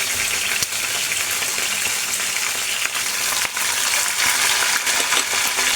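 Pieces of bata fish sizzle and crackle in hot oil in a home kitchen, a steady loud frying hiss with small pops that runs throughout and has no talking over it.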